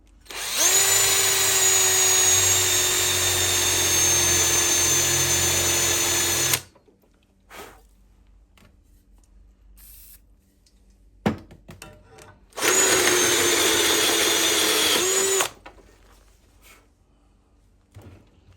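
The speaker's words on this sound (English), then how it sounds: "So I'm just gonna drill this out" A power drill bores out metal on a vehicle frame in two loud, steady whining runs, the first about six seconds long and the second about three. A quiet gap between them holds a few faint clunks.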